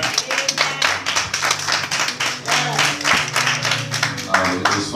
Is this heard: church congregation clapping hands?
yes